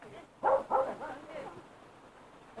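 A dog gives two quick close barks followed by a softer whimpering trail, heard during an endurance trial event with a faint background.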